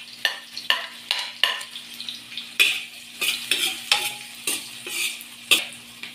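Garlic fries in oil in a large pan while being stirred, a quiet sizzle under a steady series of sharp scraping strokes of the spatula, roughly two per second, with no voices.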